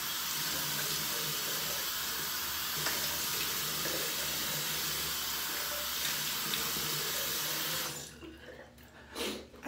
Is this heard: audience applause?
no